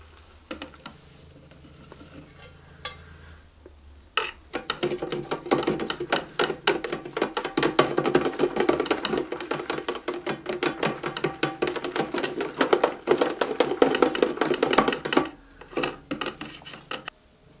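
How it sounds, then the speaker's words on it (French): Giant soap bubble solution with glycerine is stirred in a container, a steady run of close scraping and clinking strokes lasting about ten seconds after a quiet start. "Et on n'oublie pas de mélanger."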